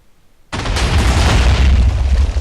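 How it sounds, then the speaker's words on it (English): A powerful incendiary explosion goes off in Minecraft, set up with the CustomSpawners plugin, as a sudden loud boom with a deep rumbling tail that sustains for the rest of the moment. "So that was a pretty powerful explosion."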